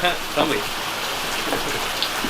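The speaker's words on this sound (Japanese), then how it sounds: "しかも今日あいにくの雨だしな。" Rain falling outdoors at a camp in Osaka, a steady dense patter on surfaces that holds throughout, with a person speaking briefly over it near the start.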